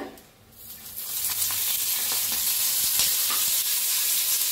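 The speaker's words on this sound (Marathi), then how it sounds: "कसं करपूस छान भाजले ते मिरच्या शेंगदाणा" Peanuts, garlic and green chillies fry in oil in a pan, a close, steady sizzle that swells up after a brief quiet start, with no voices.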